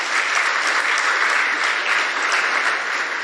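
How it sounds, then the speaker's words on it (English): Steady, loud audience applause fills a university open day and job fair opening ceremony, a dense crowd clapping continuously throughout with no pause. "Please put your hands together for everyone that's been involved."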